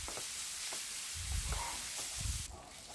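Tomatoes, onions and spices for paneer curry fry in a pan with a soft, steady sizzle and a few low stirring bumps, faint and close, before the hiss drops away near the end.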